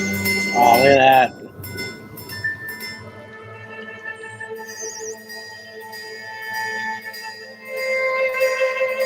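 A white gold Breguet Marine 5517 on a rubber strap chimes, giving a few clear bright metallic tones early on, followed by softer ringing and clinking under background noise and faint voices.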